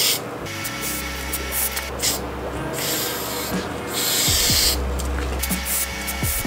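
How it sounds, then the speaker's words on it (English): Spray paint hisses through a 210 stencil cap in a few short bursts, with a faint spitting on the first spray, close to the microphone with no talking. "there was a teeny bit of spitting on the very first spray"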